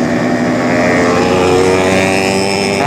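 Many two-stroke motorcycles on a road to Jatigede, Sumedang rev loudly together, a dense, continuous buzzing drone that rises in pitch toward the end.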